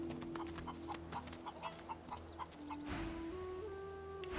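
Chickens in the video game Divinity Original Sin 2 cluck in a steady series of short, soft calls over a constant low game hum, with no talking.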